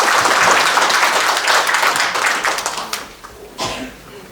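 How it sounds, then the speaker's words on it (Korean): Loud, dense clapping from the audience at an anniversary ceremony of a civic association in Busan, sustained and then thinning out toward the end. "뜨거운 박수 부탁드리겠습니다."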